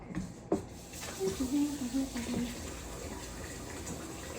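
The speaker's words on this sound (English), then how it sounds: "I'll wash my hands real fast." Hands washed under a running kitchen tap while making pepper jack cornbread: a quiet, steady stream of water with a brief splash and clatter early on, soft and close.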